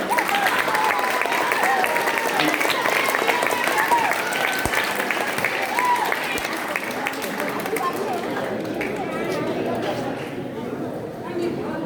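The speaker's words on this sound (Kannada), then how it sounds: "ಜೋರಾದ ಚಪ್ಪಾಳೆ ಬರಲಿ ಇವರಿಗೆ." Loud, sustained applause from an audience at a Kannada-language gathering honouring a student, dense clapping filling most of the stretch and easing slightly toward the end, with some crowd chatter underneath.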